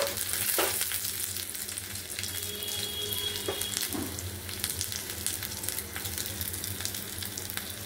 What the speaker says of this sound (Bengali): তেল গরম হয়ে গেছে। এবার আদাটা দিয়ে দেই। শুকনো লঙ্কাটা দিয়ে দেব।